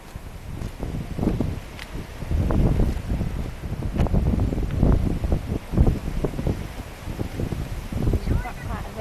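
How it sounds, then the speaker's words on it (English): Strong wind buffets the microphone outdoors on a walk to the shops, a steady loud roar with gusty surges throughout, while people talk in the background. "It's very windy."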